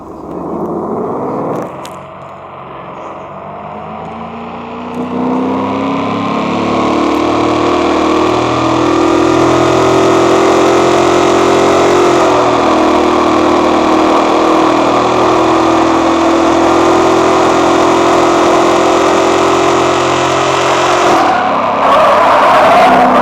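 A car engine in the BeamNG.drive driving simulator idles briefly, then revs up and holds a loud, steady, strained drone as the car accelerates for a long stretch before easing off near the end.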